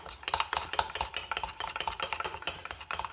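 Nescafe instant coffee and a splash of milk beaten briskly with a spoon in a cup, a steady run of quick, close scraping clicks repeating several times a second throughout.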